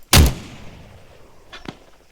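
Loud artillery round fired in the military game Arma 3, a sharp booming blast with a long rumbling tail, followed by a second, fainter shot in the distance.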